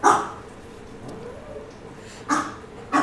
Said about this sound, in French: Il n'aboie pas fort parce qu'il a la baguette